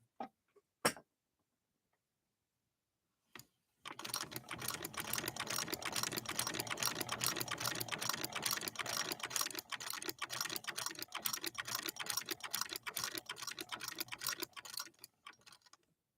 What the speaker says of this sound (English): let's try stitching down